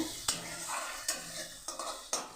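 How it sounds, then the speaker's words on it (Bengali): Spice masala being stir-fried in a pan for a lady's finger (okra) curry, a steady soft sizzle broken by four sharp scraping strokes of the spatula, close by with no voices. "মশলাটাকে আমি পুরো কষিয়ে ফেলি"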